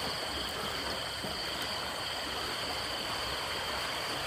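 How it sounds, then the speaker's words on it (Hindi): River water flowing and splashing, a loud, dense, continuous rushing roar close by with no pauses, alone without talk. "जो आवाज़ आ रही पानी का"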